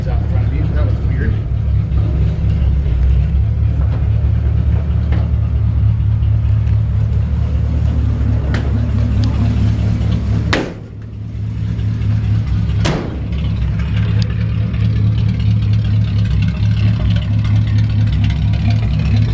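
A 1950 Ford F-1 panel truck with a low-mileage rebuilt engine and an exhaust pipe exiting straight out the bottom runs steadily, a loud, close mid-pitched drone with two sharp clicks partway through.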